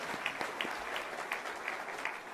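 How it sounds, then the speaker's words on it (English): An audience at a groundbreaking event applauds its municipal leaders: a dense, steady wash of clapping from many hands, moderately near and continuous throughout, with no talk over it. "A round of applause for all of our municipal leaders who are here today."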